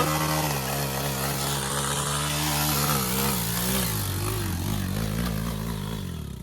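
Motorcycle engine revving hard during a bike ride, a loud close buzzing drone that rises and falls in pitch, running continuously without talk and easing off slightly at the end.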